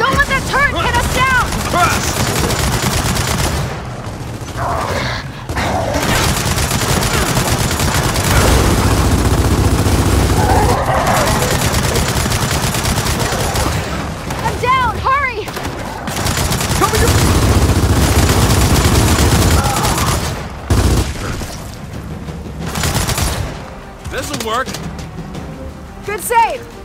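Turret gunfire in the video game Gears of War 4 rattles in loud, sustained bursts with booming impacts, broken by short pauses, while voices shout over the combat.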